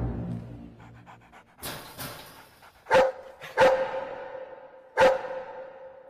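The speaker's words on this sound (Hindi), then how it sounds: "ओए ये तो कुत्ता है," A dog in a comedy film scene pants and scuffles before letting out three sharp, loud barks close by, each ringing briefly.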